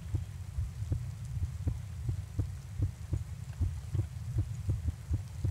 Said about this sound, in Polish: Słyszę bicie serca w słuchawce.